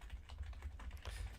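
Rapid keystrokes on a computer keyboard, a steady run of close, crisp clicks with no voices.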